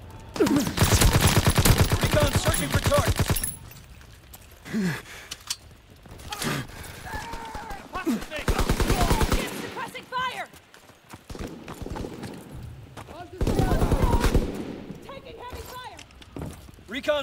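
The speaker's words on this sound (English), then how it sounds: "Fighter pilot inbound. Strafing the target." Fighter plane strafing run in Call of Duty: WWII multiplayer, with loud rattling bursts of rapid gunfire in several separate waves and quieter game noise and brief voices between them.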